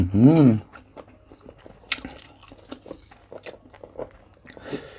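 Crab sticks dipped in seafood sauce are bitten and chewed close to the mic, giving soft squishy bites and small wet smacking sounds after a woman's brief spoken line.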